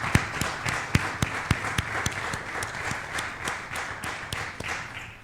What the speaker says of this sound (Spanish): podemos darle un aplauso a Jesucristo